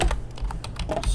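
Quick keystrokes on a computer keyboard while setting up a Minecraft Spigot server, a handful of close, crisp clicks in an irregular typing rhythm.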